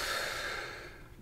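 A steady, audible inhalation during a live Kundalini meditation session, close and fairly soft, with an airy breath that fades slightly toward the end and no talk over it.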